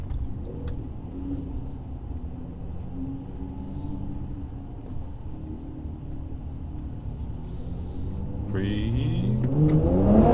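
A 2019 Mercedes C43 AMG with a performance exhaust rumbles at a low idle inside an underground car park, then revs up sharply near the end with rising, echoing engine tones; a voice briefly speaks over it.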